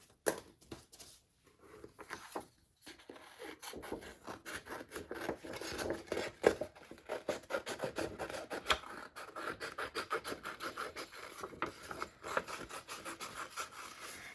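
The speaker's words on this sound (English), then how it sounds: "And then I'm going to cut one more time." Continuous scratchy rasping of scissors cutting craft material for an elephant wall hanging, close and steady for about fourteen seconds, with no speech.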